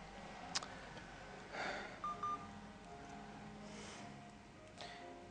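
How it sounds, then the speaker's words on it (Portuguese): A telephone keypad sends a quick pair of short dialing tones, faint against a steady background hiss, with a few soft clicks around them. "Vou ligar para a Elsa, para a namorada"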